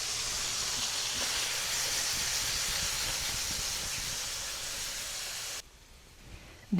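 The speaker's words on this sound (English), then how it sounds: "These are just gonna saute until they're softened" Zucchini sautéing in a hot pan gives a dense, even sizzle that holds steady for several seconds and then drops off sharply, with no talk over it.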